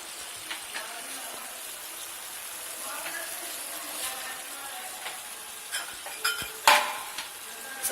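Chopped tomatoes and vinegar cook in a karahi with a soft, steady sizzle, punctuated by stirring clinks and scrapes that grow louder toward the end.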